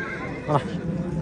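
A horse at the Osh horse market in Kyrgyzstan lets out one short, nearby neigh midway through, while people talk and bargain around it.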